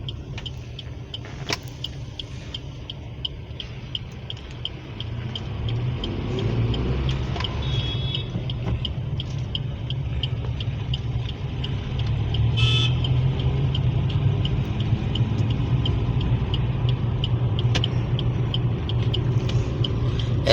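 A manual car pulls away in first gear under accelerator, its engine giving a steady low rumble that swells slightly toward the end, with faint clicks and no talking.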